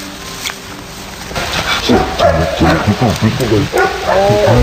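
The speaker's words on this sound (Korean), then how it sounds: "저 멀리서 사냥개들이 짖는 소리가 들립니다" Hunting dogs bark and yip in the distance during a wild boar hunt, several overlapping calls building into a busy chorus under wind noise.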